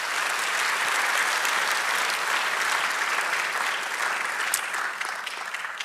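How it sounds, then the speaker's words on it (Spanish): A church congregation gives sustained, dense applause for the Lord during a sermon, a steady roar of many hands clapping together that stays loud and even throughout, with only faint voices beneath. "Dale un aplauso"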